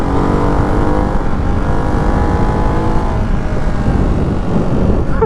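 A Ducati Hypermotard 698 Mono RVE single-cylinder motorcycle rides through corners, its engine a loud, close, continuous drone whose pitch rises and falls as the bike leans and shifts, with wind rush mixed in.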